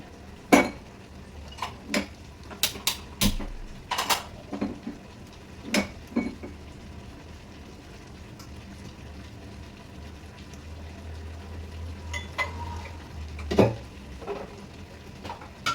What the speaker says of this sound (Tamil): இப்போ இதை வந்து ஒரு தாளிப்பு கொடுத்துருவோம் கீரையை.